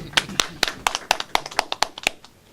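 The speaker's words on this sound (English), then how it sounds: "Let's give him a round of applause, because that's value adding" An audience claps for Brother John Robin in a steady, evenly spaced rhythm of sharp handclaps, fairly close, with a faint voice at the start.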